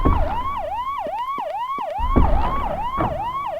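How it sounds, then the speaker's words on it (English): A loud, close video-game police siren wailing in fast repeating yelps, each rising and falling in quick cycles, with a low engine rumble underneath. "And, sirens. Sounds like someone called the police here."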